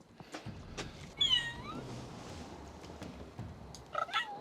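A cat trapped inside a closed coffin lets out a few muffled meows, faint and close, with soft rustling and bumping between the cries.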